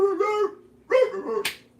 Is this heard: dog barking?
yes